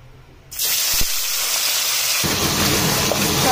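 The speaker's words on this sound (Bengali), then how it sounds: "তেলটা এখানে ভালোভাবে গরম হয়ে গেছে, ধোয়া উঠছে। এবার মাছগুলোকে আমি ভাজতে দিয়ে দেবো।" Pabda fish dropped into hot, smoking oil for mustard pabda set off a sudden loud, steady sizzle and crackle that keeps going close by, with no talking.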